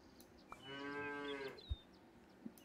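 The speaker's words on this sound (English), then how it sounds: "Buy a cow." A cow moos once in the Super Auto Pets video game, a clear drawn-out low call lasting about a second, with a few faint clicks around it and no talking.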